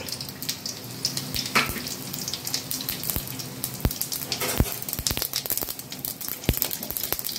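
Mustard seeds, cumin and dried chillies fry in hot oil with soft, steady sizzling, scattered sharp pops and crackles close by, fairly quiet overall.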